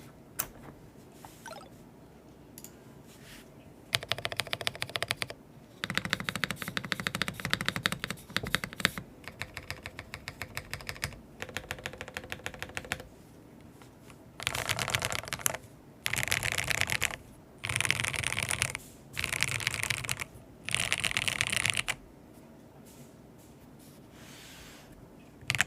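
Bursts of clacky keystrokes on a JOJO Studio M93I mechanical keyboard, with dense runs of typing broken by brief pauses and a rhythmic string of short, loud flurries near the end, close and alone.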